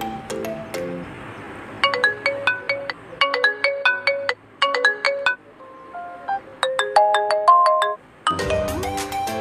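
A downloaded notification ringtone plays on a phone, a bright chiming melody of quick repeated plinking notes in short phrases with brief pauses between them, loud and close.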